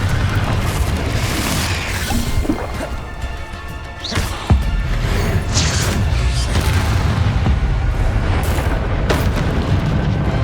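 A Confringo spell explosion in the video game Hogwarts Legacy lands as a loud booming blast over constant dense game ambience, with a sharp impact and rumble midway through.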